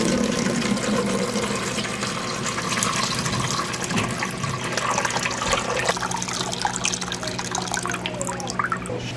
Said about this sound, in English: So the water is filtering through here.